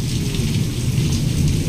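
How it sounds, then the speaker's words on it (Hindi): Heavy rain pours steadily on a village home with a low, rolling rumble of thunder underneath, close and continuous. "ये किस तरह से एकदम बिजली कड़क रहा है"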